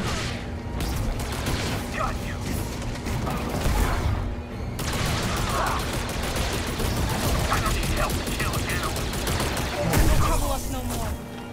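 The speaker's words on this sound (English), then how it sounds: "No, no, keep shooting, keep shooting." Rapid blaster fire crackles in Star Wars Jedi: Survivor, bursts of repeated shots layered over mechanical clatter and booming game effects, with a voice talking over the action.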